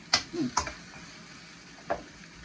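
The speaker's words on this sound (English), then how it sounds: "now just going to stir fry this a little bit." Broccoli and chicken are stir-fried in a pan for a Chinese dish, with a few quick, fairly faint utensil scrapes and taps spaced out over a soft, steady background.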